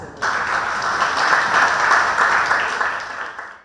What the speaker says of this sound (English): let's welcome Team BENZ from India with a round of applause